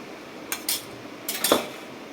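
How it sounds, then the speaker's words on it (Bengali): A spoon clinks a few times against a bowl while tamarind chutney water is spooned over doi bora, with two soft taps and then a quicker cluster of sharper scrapes, close by and otherwise quiet. "তেঁতুল জল তেঁতুলের চাটনি থেকে দিয়ে দিচ্ছি"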